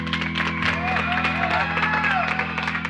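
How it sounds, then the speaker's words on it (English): Children at a school assembly clap and cheer with a steady patter of applause and occasional whoops, while a voice speaks over the crowd noise. "the kids were cheering and standing up, and all the teachers stood up"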